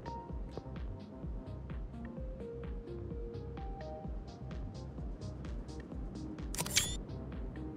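A single sharp camera-shutter click in Car Mechanic Simulator 2021, a short bright snap near the end, set against steady layered in-game ambience and music.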